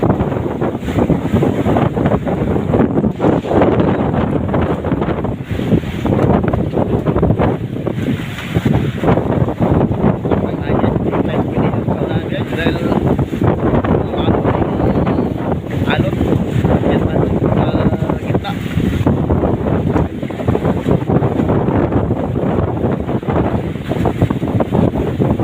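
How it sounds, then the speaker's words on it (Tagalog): Strong wind buffets a boat at sea in rough, high waves, a dense continuous roar of wind and water with rumbling low noise throughout, loud and steady with no clear pauses. "Malakas talaga ang hangin guys."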